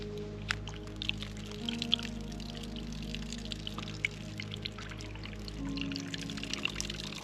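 Water drains and pours steadily out of a camp shower head from a BougeRV water heater setup, a continuous close splashing stream with occasional drips and gurgles, no talking.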